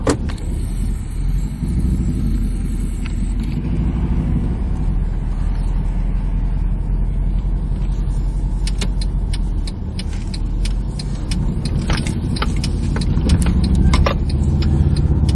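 A Mercedes E63 AMG drives along, its steady road and engine noise continuous and close throughout, with a few faint clicks and rattles from inside the cabin.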